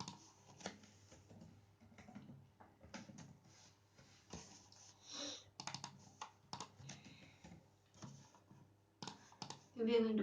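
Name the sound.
typing code on a computer keyboard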